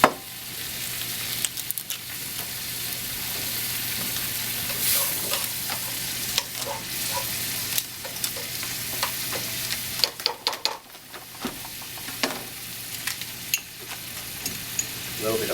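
A vegetable stew with white wine and tomatoes sizzles in a pan, a continuous frying hiss broken by repeated stirring scrapes and clatters, close and fairly loud.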